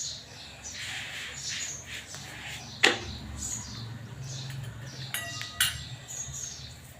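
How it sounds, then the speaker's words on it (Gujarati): Faint, scattered morning bird chirps in the distance against quiet background noise, with a couple of sharp clicks or taps nearby. "સવાર સવારનો સમય છે ને પંખીનો અવાજ પણ બહુ મસ્ત મજાનો આવી રહ્યો છે"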